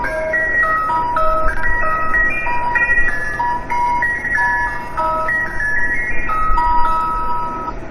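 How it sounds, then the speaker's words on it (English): A numbers station shortwave broadcast plays its musical call sign, a loud, steady chain of electronic notes hopping between pitches in a tinkly melody over a constant hiss of radio static. "I think the music is its call sign"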